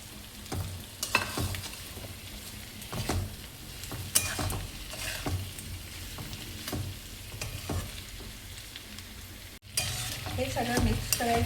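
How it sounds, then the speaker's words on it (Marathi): Boiled, chopped potatoes are stirred into sizzling masala in a pan for a dry potato bhaji, with continuous frying hiss and repeated scraping strokes of a spoon, close and steady. "आता यामध्ये आपण जे उकळलेले बटाटे होते ते चिरलेले आहेत, ते टाकत आहोत आपण"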